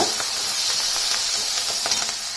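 Curry leaves dropped into a hot pan with turmeric for mango chitranna hiss and crackle in a loud, steady sizzle, close up and uninterrupted, with faint sputtering pops and no voice.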